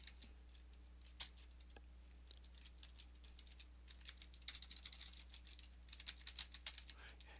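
A computer keyboard clatters in quiet bursts as the systemctl get-default command is typed, one sharp isolated click first, then rapid clusters of light keystrokes over a low steady hum.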